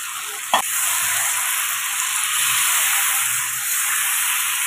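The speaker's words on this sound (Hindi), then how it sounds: "और अब मैं इसके अंदर यहाँ पर आलू शामिल कर दूंगी" Boiled potatoes drop into a hot pan of oil for aloo baingan with a brief thump, followed by a steady, loud, close sizzle and hiss of frying that continues alone.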